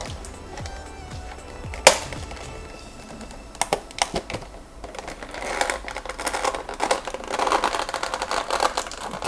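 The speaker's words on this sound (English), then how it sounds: "this scissors is not sharp at all, so I'm actually having some difficulty cutting it loose" Dull scissors hacking a dinosaur toy loose from its cardboard and plastic packaging, giving irregular snips, crinkles and rustling that grow busier toward the end, with one sharp snap early on.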